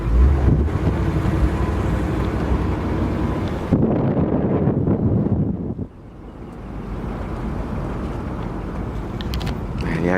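A 1955 Chevrolet Bel Air convertible cruises with its top down, producing steady, loud road and engine rumble mixed with heavy wind buffeting across the microphone, easing briefly around the middle before building again.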